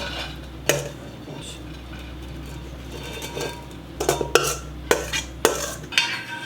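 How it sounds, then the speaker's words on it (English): Shredded cabbage being pounded for sauerkraut in a crock: a few dull thuds early on, then a quicker run of knocks and clinks near the end over a low steady hum, with no talking. "I'm just going to pound a little bit and then I'm going to add it to my crock"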